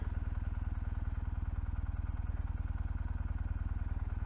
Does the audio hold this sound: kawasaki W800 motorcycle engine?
yes